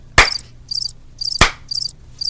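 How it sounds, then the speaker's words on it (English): A cricket chirping sound effect plays during a live stage show: short, bright chirp bursts repeat in an even rhythm, cut twice by loud, sharp thumps. "crickets, thank you"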